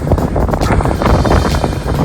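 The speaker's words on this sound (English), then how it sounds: "Very, very windy up here," Strong wind buffets the microphone on an exposed hilltop along the South Downs Way, a loud, continuous roar and rumble with gusty swells, heard on its own without talk.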